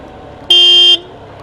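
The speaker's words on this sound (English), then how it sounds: "Use of the horn there." A single short horn blast from a BMW R1200RT motorcycle, a bright steady tone lasting about half a second, loud and close over quiet road and engine noise.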